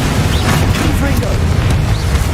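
A Confringo fire spell from Hogwarts Legacy bursts with a loud, rumbling whoosh that fills the whole moment, dense and booming without clear separate hits.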